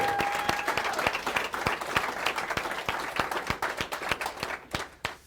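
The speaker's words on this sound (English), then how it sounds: "last big round of applause for Sam." A room full of people gives a big round of applause at a celebration, steady dense clapping that thins out toward the end, with no voices over it.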